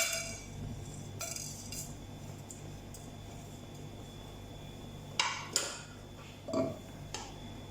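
Whole garam masala spices stirred in hot olive oil in a pan for veg pulao, mostly a quiet low sizzle with a few sharp metallic clinks of a utensil against the pan, close and sparse, no talk.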